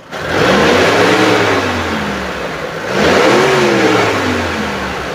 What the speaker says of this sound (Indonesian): Kita udah naikkan RPM.